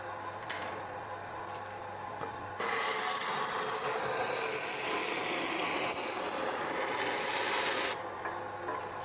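A STALEX band saw machine's blade cuts with a harsh, rasping roar that swells in partway through and stops near the end, with a quieter motor hum before and after.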